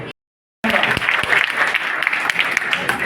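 An audience in an auditorium applauds at the Sen Ji Maharaj Jayanti festival in Shakurpur, producing dense, steady clapping that starts abruptly after a brief moment of silence.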